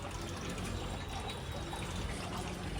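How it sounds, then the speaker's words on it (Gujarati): Water runs and trickles steadily while clothes are washed at home, a soft, continuous splashing hiss heard fairly faintly with no voices. "મંકુ તો કપડા ધોવે છે."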